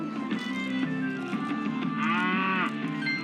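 A cow moos loudly and steadily through the whole stretch, one long drawn-out bellow with a rising, wavering tone in the middle, heard close with no talk over it.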